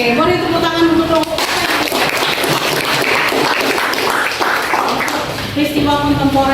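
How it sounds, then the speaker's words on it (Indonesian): A classroom full of students applauding a student group: dense, loud clapping sustained for several seconds, with a voice faintly audible at the start and end. "boleh tepuk tangan untuk kelompok"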